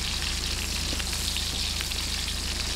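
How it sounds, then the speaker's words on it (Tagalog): Onions sautéing in a pan while they wait to turn light brown, a dense, steady sizzle close up with constant crackling and no break throughout. "ang sibuyas. Ayan, hintayin lang po natin magisa-gisa"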